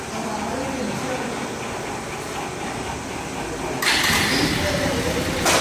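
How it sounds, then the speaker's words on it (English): A car engine fires up on the first try after a copper-to-iridium spark plug change with new MSD cables, then settles into a steady smooth idle, fairly quiet with a brighter rise near the end. "In the first start itself, the engine picked up and that's running smooth."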